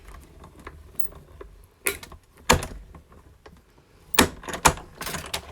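A die cutting machine makes sharp popping and clicking noises while cutting a tag, a few distinct loud pops spread over quiet mechanical rustling, close by.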